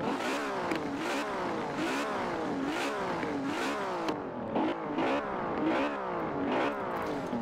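A Ferrari 599 V12 engine from Forza Horizon 4 revs up and down over and over in steady, rapid sweeps, loud and close, with no talking over it.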